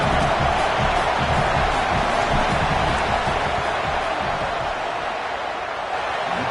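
Loud, sustained roar of a packed stadium crowd at a Boston College football game, steady and dense throughout as fans make noise during a field goal attempt.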